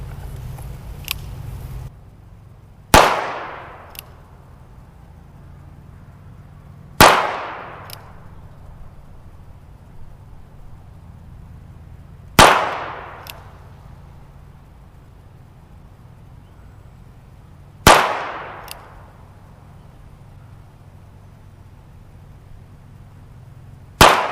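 A Ruger Wrangler revolver fires five sharp, loud shots at a target outdoors, spaced several seconds apart, each with a quick decaying ring, a sixth starting at the end.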